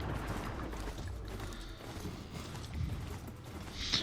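Robotic Strider horse machine galloping in the video game Horizon Zero Dawn, a steady mechanical clip-clop of hooves with creaking, whirring parts, continuous and fairly loud throughout.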